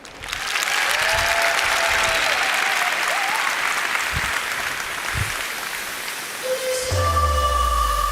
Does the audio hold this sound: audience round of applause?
yes